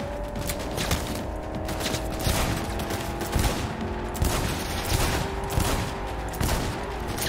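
Gunfire in the video game Cyberpunk 2077, repeated sharp shots and bursts at an uneven pace over a constant mechanical background drone, loud and close with no speech.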